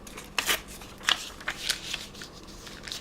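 Paper being ripped by hand for a collage page, heard as several short, close tearing bursts spaced through a quiet room with no talking.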